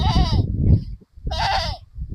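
Two loud, drawn-out goat bleats close by at a goat market in Sangrur district, separated by a short pause.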